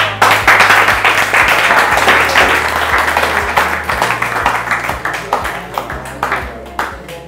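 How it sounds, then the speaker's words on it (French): Audience applause at a talk on entrepreneurship for high school students, a loud burst of many hands that slowly thins out. A steady electronic tone runs beneath it, and a few isolated claps are scattered through the fade. "On applaudit alors."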